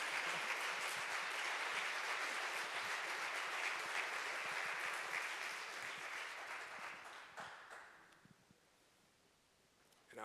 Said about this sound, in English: if you want to applaud, that's cool if you want to